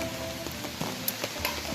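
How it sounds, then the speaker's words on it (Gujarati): Steady rain falls in the Gir region, a dense, even hiss of drops on surfaces with a few louder splashes and taps, loud and continuous with no voices. "લ્યો ભાઈ તો વરસાદે થઈ ગયો"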